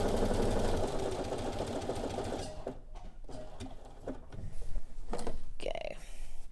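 A home sewing machine stitches garment fabric in a rapid, close mechanical whir that runs steadily, then breaks into short clunky bursts as back stitching starts, with a person talking over it.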